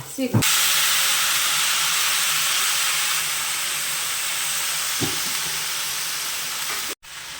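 Pumpkin pieces hit a hot pan with onions and spices, bursting into a loud, dense hissing sizzle that holds steady and slowly eases, with a couple of brief knocks along the way.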